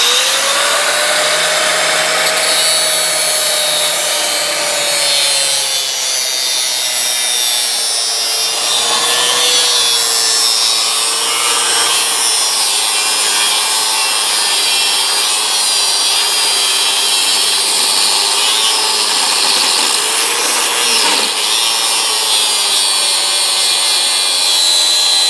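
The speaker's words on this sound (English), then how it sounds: "I hate using the grinder this way because it's the wrong direction, but my only option right here." A grinder cuts through pipe during a sewer clean-out repair, a loud continuous abrasive whine with a shifting pitch that runs unbroken for about twenty-five seconds, with no talk over it.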